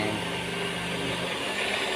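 A blender grinds dry-roasted coconut into rendang spice paste, giving off a steady, unbroken whirring roar at moderate volume for the whole stretch, with no voices.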